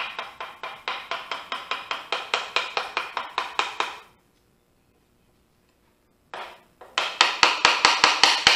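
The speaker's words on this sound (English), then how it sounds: "I'm chiseling a flat spot for the edge of the shelf." A chisel being tapped into a bourbon barrel stave to cut a flat spot, in rapid even strikes that stop for about two seconds, then resume at the same brisk pace, close and alone.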